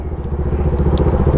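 A Bajaj Dominar 400 motorcycle engine idles and revs up close, a loud, throbbing low rumble with rapid, even exhaust pulses and a slight rise in pitch, heard alone.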